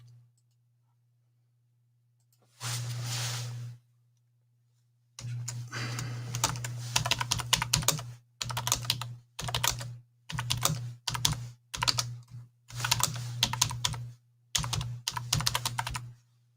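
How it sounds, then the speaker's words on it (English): Keys clatter in quick bursts on a computer keyboard, separated by short pauses, close and fairly loud over a steady low hum. "Oop, typing on the wrong one."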